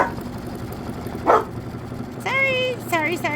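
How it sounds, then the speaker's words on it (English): Dogs barking at home, one outside setting off another indoors: a single sharp bark, then a run of high, yelping calls toward the end over a low background hum. "Poppy's out there barking, so that is making Momo bark too"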